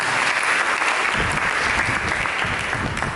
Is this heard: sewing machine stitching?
no